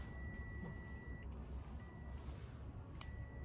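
A continuity probe on an LS engine wiring harness reworked for standalone use with a 4L60E transmission emits a faint, steady electronic beep tone while the starter circuit is tested. The tone briefly drops out, then resumes over low background hum.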